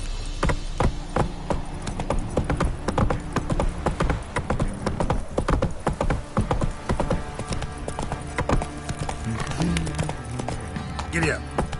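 Horse hooves gallop in The Witcher 3 video game, a steady, loud clip-clop that runs throughout with voices talking over it and a short whinny-like sound near the end.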